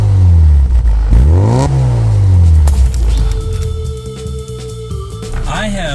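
A Mini with an A-Series 1.275 liter, 62 horsepower engine sitting over the drive wheels revs hard and close. Its pitch sweeps up and down loudly before settling into a steadier drone.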